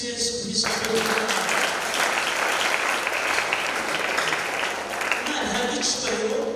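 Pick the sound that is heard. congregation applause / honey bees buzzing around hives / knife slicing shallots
congregation applause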